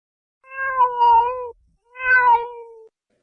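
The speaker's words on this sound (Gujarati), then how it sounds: "બિલાડી બોલે," A cat gives two drawn-out meows, close and clear, with a short pause between them and nothing else audible.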